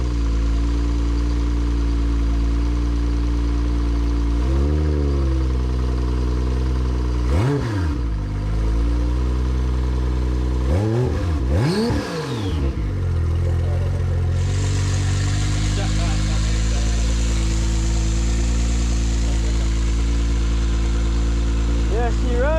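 A Toyota 1JZ engine idling in a car after wiring work, a loud, steady low rumble with a few brief revs rising and falling, with people talking over it.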